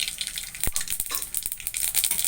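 Bright crackling sizzle of mustard seeds in hot oil with a few sharp pops scattered throughout, fairly close and moderately loud.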